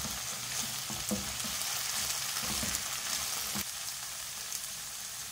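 Chopped cabbage (150 g) sizzles in a pan while being mixed, with steady frying hiss and a few soft scraping stirs, close and moderately loud with no talking.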